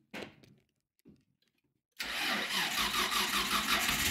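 Skyline-powered Nissan 240SX engine cranking, then catching and settling into a loud, rough idle, with a brief sound and a short tap before the start.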